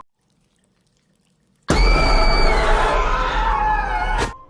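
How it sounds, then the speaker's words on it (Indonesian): A bathroom tap suddenly starts running after near silence, a steady close gush of water pouring for about two and a half seconds before it cuts off abruptly. "Keran di kamar mandi itu hidup sendiri"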